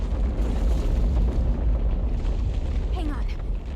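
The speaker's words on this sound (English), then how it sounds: "Explosions." Explosions in Monster Hunter World: Iceborne, a continuous loud rumbling roar of blasts with heavy low booms throughout, a voice speaking briefly over it near the end.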